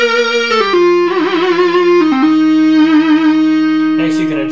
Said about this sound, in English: the pressure bar for modulation rather than your wheel